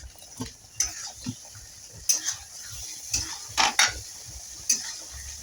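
Grated ginger and spices frying for khichuri, with repeated clinks and scrapes of a spoon stirring in a pan over a soft sizzle, a dozen or so sharp knocks at an uneven pace.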